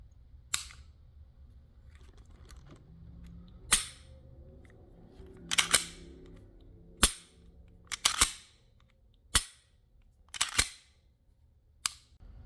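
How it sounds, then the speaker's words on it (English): A Glock pistol fitted with a Phantom trigger, dry-fired and reset, gives sharp, close mechanical clicks, single and in quick pairs, spaced irregularly over quiet room tone. "I wanted to take a second so you can hear the trigger and how it resets"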